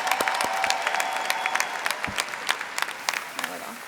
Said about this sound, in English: please, another round of applause for all of you.